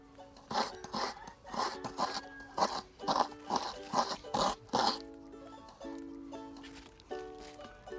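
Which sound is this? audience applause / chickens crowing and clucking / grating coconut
grating coconut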